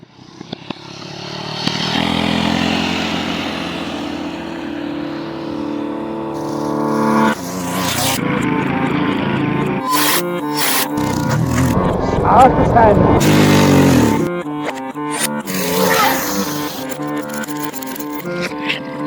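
A mini bike engine runs steadily and close by, its buzzing drone turning rougher and more uneven partway through as other noises and voices mix in.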